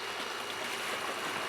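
Black water from an RV holding tank rushes through a sewer hose in a steady, loud, continuous gush, like a stream of flowing water, with no talking.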